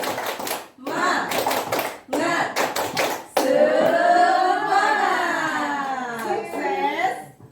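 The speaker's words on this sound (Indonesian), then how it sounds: "Oke, tepuk semangat." A group doing a 'tepuk semangat' clapping chant, with bursts of rhythmic hand claps followed by a long sustained shout of voices in unison, close and lively.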